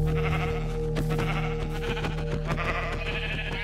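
Sheep in the Minecraft video game bleat in several short, repeated calls close by, over a steady tonal game music bed, with no talking.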